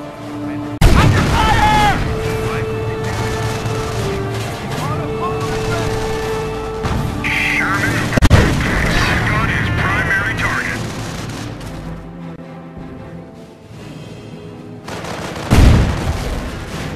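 Booming shelling and gunfire from German forces pound a base in the Company of Heroes game; heavy blasts strike near 1, 8 and 16 seconds over a constant rumble of battle, with a brief siren-like tone partway through.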